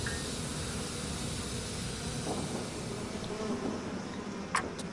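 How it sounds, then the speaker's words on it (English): Bees buzz in the video game Bioshock as a dense, continuous drone under steady hiss that lasts throughout, with a brief louder blip near the end and no talking. "that has gotten rid of the bees, at least for the moment"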